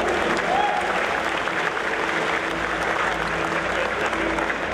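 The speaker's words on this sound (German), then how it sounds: "Nochmal einen großen Applaus hier" An audience applauds at a Gamescom 2014 Blizzard costume contest, with steady, dense clapping from a crowd that fills the hall and holds at even loudness throughout.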